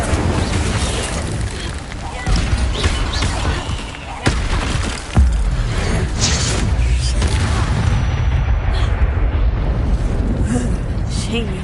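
Incendio fire spells cast in Hogwarts Legacy: loud whooshing, booming fiery bursts within continuous rumbling combat noise, with a voice speaking over the action.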